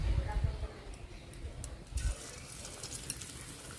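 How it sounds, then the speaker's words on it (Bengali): Breadcrumb-coated katla fish pieces dropped into moderately hot oil, a close crackling sizzle that follows low thumps and rises into a steady bright fizz, with a voice speaking over the start. "তেল গরম হয়ে গেছে এখন মাছ দিয়ে দেব"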